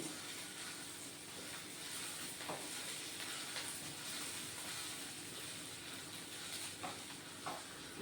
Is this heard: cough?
no